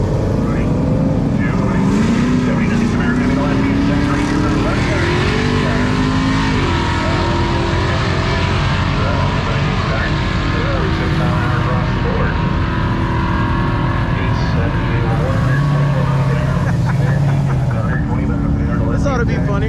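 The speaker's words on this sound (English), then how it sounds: "Look up there, all the big airplanes flying on top of Bradenton Motorsports Park, or right behind it." Large airplanes passing overhead near a drag strip at a motorsports park, a loud continuous engine roar with rising and falling drones under steady racing-venue noise, with people talking nearby.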